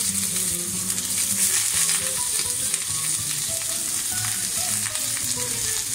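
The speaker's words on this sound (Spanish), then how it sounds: "Echamos el aceite de sésamo, dejamos que hume un poquito, que caliente, y luego echamos las verduras." Vegetables fry in hot sesame oil in a pan, giving a loud, continuous sizzle with faint stirring noises and no talking.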